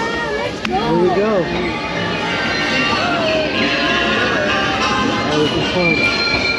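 Mickey & Minnie's Runaway Railway ride vehicle at Disney's Hollywood Studios rolls along its track with a steady rumble and squealing wheels, riders chatting over it throughout.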